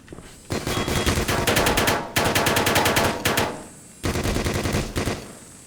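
Rapid automatic gunfire in the video game Black Mesa, loud and close, coming in three long sustained bursts separated by brief gaps.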